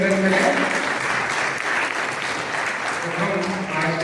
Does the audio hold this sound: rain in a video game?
no